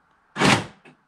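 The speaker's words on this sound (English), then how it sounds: "I'm going to just pretend to lock the door" The central locking on a Vivaro van's sliding door actuates with one short, loud mechanical thunk followed by a softer click, close by and with no talk over it.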